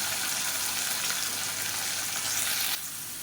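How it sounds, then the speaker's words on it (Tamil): Cauliflower sizzles steadily in a hot pan as it is stirred, a dense continuous frying hiss that drops sharply quieter near the end; no voices. "காலிஃப்ளவர் சேர்த்து நல்லா ஒரு ரெண்டு பரட்டு பரட்டி விட்டுட்டு"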